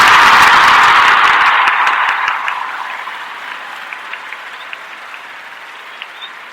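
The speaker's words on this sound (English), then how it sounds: "I'm going to go ahead and give everybody that's here live with us a round of applause." Live audience at an evening spiritual gathering breaks into a loud, dense round of applause that fades over several seconds into scattered individual claps.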